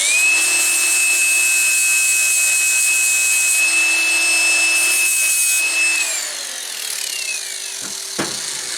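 A flap disc on an angle grinder works a cast iron Startrite bandsaw casting, a loud sustained whine with a steady high tone that drops as the tool spins down near the end, no voices.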